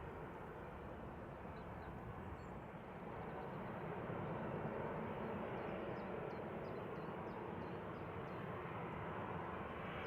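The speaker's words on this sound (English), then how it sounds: "So this is GLSAN coming in from Lanzarote, 757-200, operating flight 892 for Jet2." A Jet2 Boeing 757-200, G-LSAN, arrives at Manchester Airport from Lanzarote, giving a faint, distant, steady engine rumble that swells slightly partway through and continues evenly.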